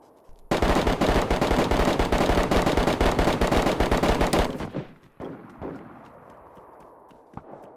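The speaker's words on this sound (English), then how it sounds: "why are all these shots so fucking loud? They're like insane loud." Rapid automatic gunfire in the survival video game DayZ bursts loud and close for about four seconds, then cuts off into quieter rustling and a faint later pop.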